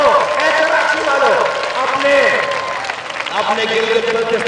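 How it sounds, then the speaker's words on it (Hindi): A large rally crowd in Karachi applauds, a dense, loud wash of clapping and cheering that sits under a speaker's amplified voice throughout. "जरा जोर से तालियां बजाओ"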